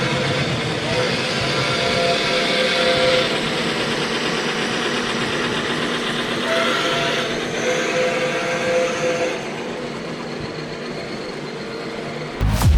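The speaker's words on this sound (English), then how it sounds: "The train is up and running." Train running in a racing game, a steady loud rolling rumble that holds throughout with slight swells and a sharp burst at the very end.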